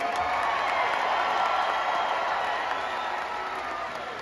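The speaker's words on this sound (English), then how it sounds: "Give yourself a round of applause." A large audience at a live concert claps continuously in a dense wash of applause, with faint cheering, tapering slightly toward the end.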